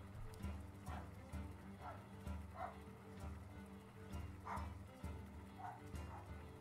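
A dog barks in a repeating rhythm of short yips roughly once a second, moderately close and fairly faint, with a voice also audible.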